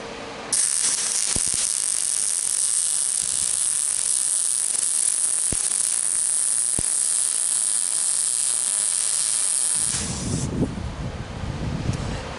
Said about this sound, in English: Weld this part here.